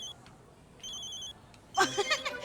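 A telephone rings in an office setting with steady high electronic tones in short bursts, followed by louder overlapping voices as people gather around the phone.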